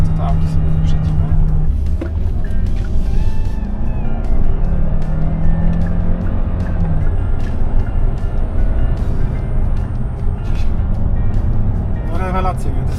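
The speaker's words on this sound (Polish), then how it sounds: "Wrzucę to wam przebitkę teraz i zobaczcie, to auto na zakrętach." A Hyundai Santa Fe 1.6 T-GDI hybrid AWD drives through mountain pass curves, with a steady road and engine hum and a few rising engine notes, while a person talks over it.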